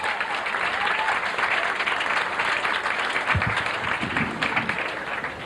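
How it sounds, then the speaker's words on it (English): A 1987 TV stand-up comedy show audience gives a big round of applause for a comedian from the Bay Area, a steady, dense burst of clapping filling several seconds, with a few cheers. "Let's have a big round of applause"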